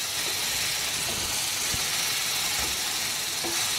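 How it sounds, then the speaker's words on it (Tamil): Ridge gourd pieces sautéing in a pan with salt, giving a steady broadband sizzle and hiss throughout with a few faint scrapes, close and continuous with no talk. "சேர்த்து விட்டு நல்லா வதக்கணுங்க"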